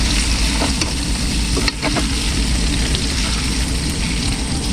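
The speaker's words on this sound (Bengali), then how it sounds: "এরপরে আমি পাস্তাটা দিয়ে দেবো এর মধ্যে। পাস্তাটা দিয়ে এবার ভালো করে নিয়ে নেবো।" Chicken pasta sizzling in a frying pan as pasta is stirred in, a constant loud fry with scraping spoon clicks and a sharper clatter midway, no voices.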